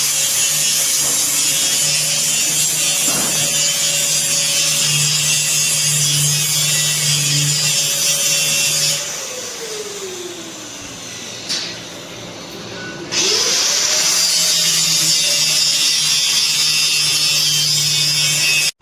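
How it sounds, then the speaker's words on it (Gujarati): Electric welding and an angle grinder at work as a metal grille is fitted at a Khodiyar temple, a loud continuous harsh buzz with a tonal whine that drops out for a few seconds in the middle, then resumes. "આ એક ભાઈ કરે છે વેલ્ડિંગ અને ઓલા બીજા ભાઈ ગ્રાઇન્ડરથી કરે છે સાપ"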